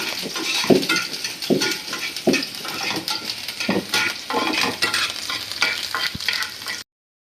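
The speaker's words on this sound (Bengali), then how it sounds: "রসুনটা কিন্তু খুব ভালোভাবে ভাজতে হবে একদম" Garlic fries hard in a pan, giving a continuous crackling sizzle. A utensil stirs and scrapes through it in repeated strokes, with an occasional metallic clink, and the sound cuts off abruptly at the end.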